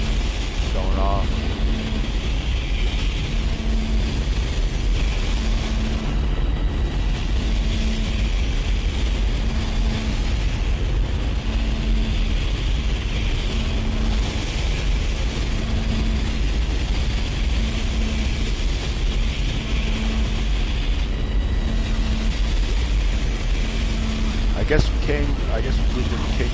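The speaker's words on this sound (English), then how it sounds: "Big ass engines going off." Spaceship engines fire in the Dead Space Remake video game, a loud, continuous low rumble with a faint periodic mechanical pulse running throughout and a brief sharper clank near the end.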